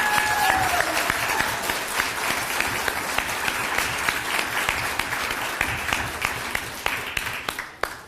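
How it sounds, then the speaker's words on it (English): Sustained audience applause fills the room at a winter and survival gardening talk, dense steady clapping from a crowd holding strong throughout before thinning near the end. "I think we should give her a round of applause."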